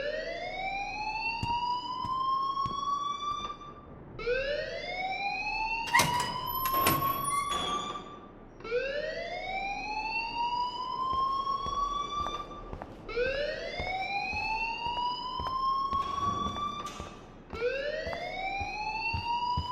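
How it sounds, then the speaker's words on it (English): Alarm ringing in the video game Life is Strange, a repeating rising electronic whoop cycling about every three seconds, loud and continuous, with brief clattering bursts mixed in partway through and no speech. "please turn off that alarm since that's your job"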